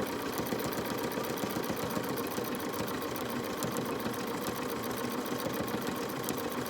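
Bernina jumbo bobbin sewing machine stitching forward, a steady continuous mechanical hum with fast, even rhythmic needle clatter, close and constant throughout without talk.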